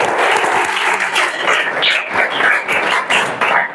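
A classroom full of students clap their hands together in sustained, dense applause during a Chhattisgarh police recruitment coaching class, steady and loud throughout.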